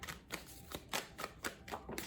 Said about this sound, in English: when I was shuffling this just before this came out